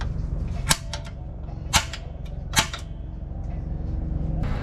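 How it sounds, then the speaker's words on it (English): Three sharp metallic taps from a center punch striking a metal bracket on a 1996–2000 Honda Civic core support, evenly spaced about a second apart over a low background hum. "I'm gonna use a center punch."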